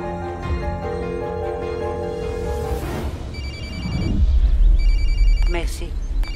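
A telephone rings on and on without being answered, a steady repeating bell tone in a French drama scene, loud and close, with other sounds rising underneath near the end.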